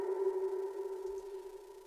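A pitched woodblock sample tuned in F, drenched in long wet reverb, sustains as a steady ringing tone with a smooth decaying tail, played alone in a drum and bass intro.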